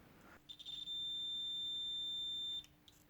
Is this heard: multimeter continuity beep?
yes